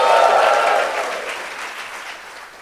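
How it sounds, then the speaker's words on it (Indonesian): Audience applause in a church or sermon hall, a dense wash of clapping that starts loud and gradually fades over about two and a half seconds, with no voices over it. "Tepuk tangannya lebih tambah lagi"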